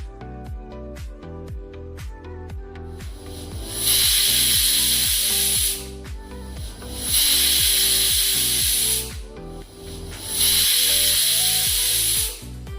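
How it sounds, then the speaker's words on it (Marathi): A pressure cooker holding rice and dal khichdi lets out three loud, hissing steam whistles at even intervals, each lasting about two seconds, over soft background music. "आता लावून टाकू कुकरचं झाकण आणि तीन शिट्ट्या होईपर्यंत वाट बघूयात"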